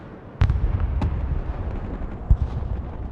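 Ballistic missile strikes explode in the Broken Arrow video game: a few separate sharp, distant-sounding blasts, two close together early and a fainter one later, each trailing into a low rumble over constant battlefield noise.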